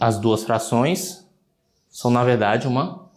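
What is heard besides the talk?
No everyday noises stand out.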